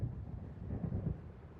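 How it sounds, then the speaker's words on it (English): Low, rolling thunder from an approaching storm in the video game Alan Wake, a dull rumble spread across the whole stretch with slight swells near the middle, moderately loud and steady, with no one talking. "It seems there's a storm coming."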